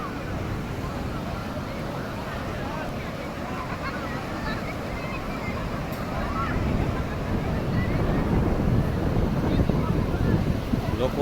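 Arabian Sea surf at Shivrajpur beach, with strong currents, rolls in as a steady broadband wash mixed with wind buffeting the microphone, growing slightly louder toward the end.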